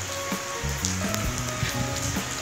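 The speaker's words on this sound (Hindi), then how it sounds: "हल्की हल्की 2 मिनट रुकती है और फिर शुरू हो जाती है हल्की हल्की बारिश हो रही" Light rain falls outdoors on a hot summer day, a steady soft hiss of fine drops throughout, with faint tones in the background.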